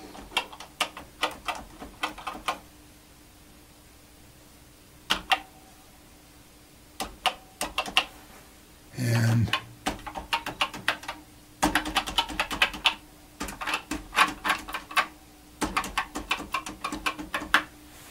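Keys on a Commodore PET 4032 keyboard under repair are pressed in scattered clicks and short rapid runs of tapping, close and fairly quiet, with pauses between bursts.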